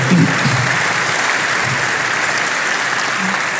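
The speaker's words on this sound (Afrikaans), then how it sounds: "Ek dink jy kan hulle 'n hande klap gee." Steady applause from a church congregation during a dedication service, a dense wash of clapping that holds at an even level throughout.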